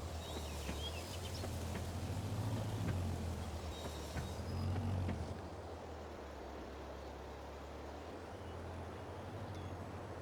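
A tractor in Farming Simulator 22 runs with a steady low engine drone. It swells and growls louder for a few seconds before settling back into a constant hum, with no voices.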